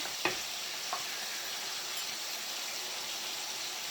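Zucchini halves fry in a pan for a stuffed karnıyarık dish, a steady broadband sizzle with two brief clinks near the start.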